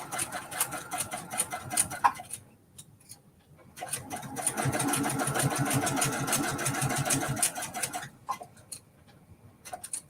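A home sewing machine stitches binding onto a mini quilt, first in short ticking bursts, then in a steadier mechanical run of several seconds, then in scattered stitches again.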